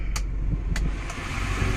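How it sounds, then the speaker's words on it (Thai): Air conditioning in an Isuzu Adventure family vehicle blows on fan setting four, a steady broadband rush of air over a low engine hum, with a few faint clicks and no speech. "เดี๋ยวเรามาดูแอร์นะครับเดี๋ยวผมจะเปิดเบอร์สี่นะครับ"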